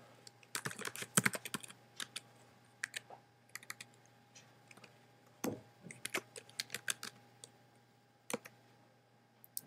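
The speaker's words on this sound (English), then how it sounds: "I'm going to type in my email address." Fingers type an email address on a computer keyboard in a quiet room, producing bursts of rapid, close clicking keystrokes with brief pauses between groups and one heavier key press in the middle.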